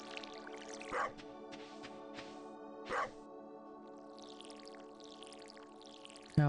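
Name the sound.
dog barking in the video game Stardew Valley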